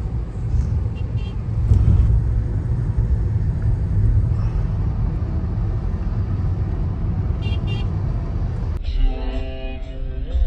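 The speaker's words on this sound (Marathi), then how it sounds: "ट्रॅफिक आहे आज." Steady low rumble of busy city road traffic and car engines in Mumbai during Ganesh festival crowds, heard from inside a moving vehicle, continuous and fairly loud with a brief sharper mechanical sound near the end.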